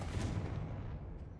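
A Confringo spell blast in the Hogwarts Legacy video game, a dense, sustained burst of booming fire-like energy that stays loud for over a second and then eases slightly, with no talk over it.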